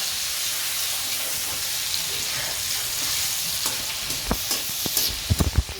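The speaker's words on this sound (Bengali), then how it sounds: "ফোড়নটা এখন ভালো করে ভাজা ভাজা করতে থাকি" Whole spices, tomato, green chili and whole garam masala tempering in mustard oil and ghee sizzle steadily and closely, with spoon-stirring clatter and sharper pops growing louder toward the end.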